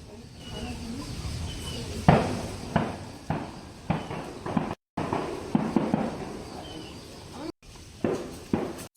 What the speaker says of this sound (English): Hearing gunshots in the distance.